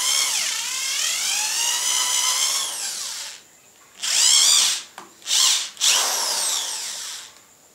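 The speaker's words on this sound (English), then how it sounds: "drill a couple more holes to either side" A power drill whines into wood in a long sustained run, then stops and restarts in several shorter bursts, loud and close.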